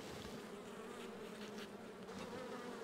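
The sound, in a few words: honeybees buzzing at hive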